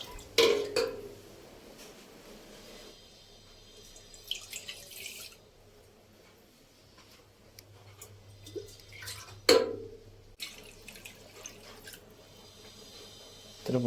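Water runs and splashes into a metal cooking pot in short bursts, with a few clinks of cookware in between and no one talking.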